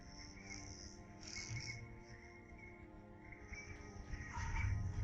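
Crickets chirp steadily at night near a river, a faint continuous trilling with soft irregular calls layered over low background noise.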